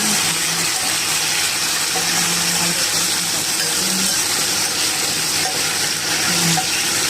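Shrimp frying loudly in a pan with garlic butter, a close, constant sizzling hiss that holds even throughout without pause.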